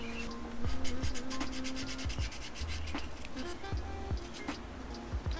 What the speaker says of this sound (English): a little bit of sandpaper to the file, or the points